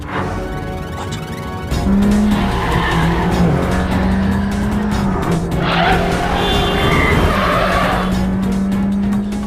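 A car in a high-speed movie chase with a bomb strapped underneath races along, engine roaring loud and close as tyres squeal and skid in long sustained screeches over several seconds.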